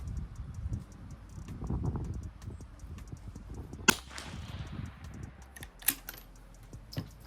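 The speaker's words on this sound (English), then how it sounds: "First shot's always a little bit loud." A single sharp rifle shot cracks out amid quiet outdoor rustling, followed by a few fainter clicks and knocks.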